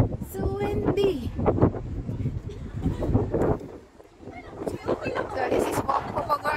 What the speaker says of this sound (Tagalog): Oh, it's windy! So windy!